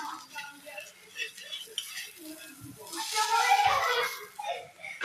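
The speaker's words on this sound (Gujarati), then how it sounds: "પરાઠાને આપણે આ રીતે ધીમા તાપ પર જ શેકવાનું છે." A beetroot and paneer stuffed paratha cooks with ghee on a pan over low heat and is pressed down. Soft sizzling and faint scraping and clatter sound throughout, swelling louder midway, with no one talking.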